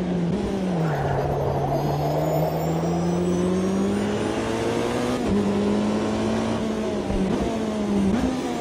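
A race car in the Automobilista 2 racing game brakes hard and then revs, the engine note dropping and climbing through gearshifts, loud and steady with no talk over it.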